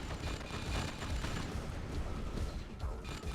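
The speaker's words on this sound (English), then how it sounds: "Rocky's Grand Cannons." Grand Cannons fire during a Red Alert 2 match amid a dense, continuous wash of game battle noise, booms and mechanical rumble layered together at steady loudness.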